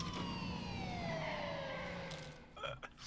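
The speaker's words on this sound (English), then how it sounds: "when the sirens are on, there are no speed limits" A vehicle siren in the video game H1Z1 wails with a long descending tone, fairly loud and continuous, fading near the end as a few short thuds and clatters break in.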